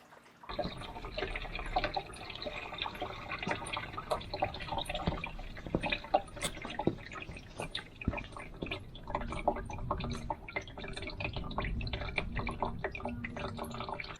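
Coolant drains and drips steadily from a Renault Clio 1.2 16v engine during a coolant flush, a continuous close trickle with many small irregular drips and splashes throughout.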